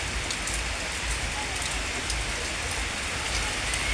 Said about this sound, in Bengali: জোরে বৃষ্টি নামছে।